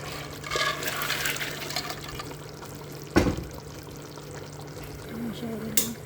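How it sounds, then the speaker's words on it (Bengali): Chana dal is poured into water in a cooking pot, giving a brief splashing rush over a low, steady background hum. Faint handling noises come before and after the pour. "এখন আমি বুটের ডাল কটা দিয়ে দেবো"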